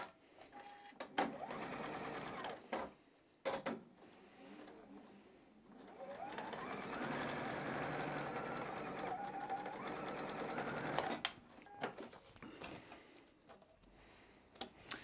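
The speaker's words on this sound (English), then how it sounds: "head on into that sewing machine and put it together with that 1/4 inch seam allowance" A sewing machine stitches quilt fabric strips with a quarter-inch seam, running in a steady whirring burst for several seconds between clicks, taps and handling of cloth, close and alone.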